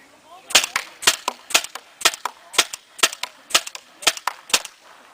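Tippmann TPX paintball pistol firing about ten sharp, evenly spaced shots over five seconds, each a crisp pop with a brief echo, loud and close with no talk.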